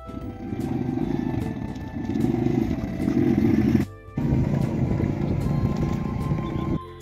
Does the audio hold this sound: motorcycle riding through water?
yes